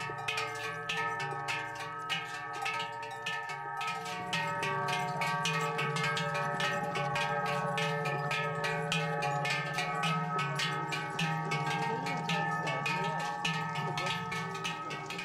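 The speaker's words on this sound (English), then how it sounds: "accompanied by the sounds of the 3 bells" Bells on cows heading up to an alpine pasture ring in a continuous, overlapping clang, with steady rhythmic strikes throughout and a faint low hum beneath.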